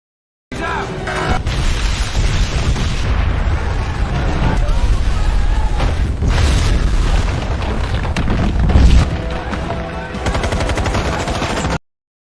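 A palace blown up by detonated bombs in an action film: a thundering explosion roars on and on, with rumbling blasts and crackling debris throughout, loud and dense, mixed with the commotion of a dramatic action scene.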